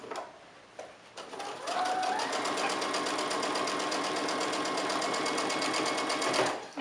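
Sewing machine stitching close to the edge around a fabric mask, a steady rapid mechanical whir with a regular needle pulse running for several seconds after a brief start, close and alone.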